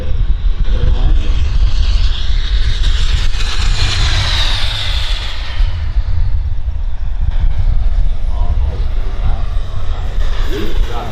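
A radio-controlled model T-33 jet comes in to land, its turbine roaring loud and steady with a rising whine and a rushing sweep as it passes close, and the noise stays heavy throughout.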